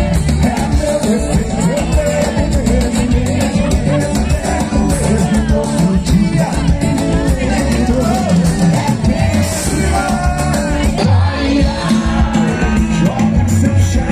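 A festival crowd at a bonfire party in Ingaí, Minas Gerais shouts and cheers in a steady, loud roar with whoops and yells, dense and continuous throughout over background music.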